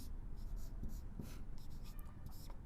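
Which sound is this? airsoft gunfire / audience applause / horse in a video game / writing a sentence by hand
writing a sentence by hand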